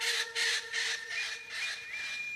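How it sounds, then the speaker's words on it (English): An Eclectus parrot lets out a series of about five harsh, raspy squawks in quick, fairly even succession, close and clear with nothing else heard. "Eclectus parrots are the pinnacle of parrot evolution."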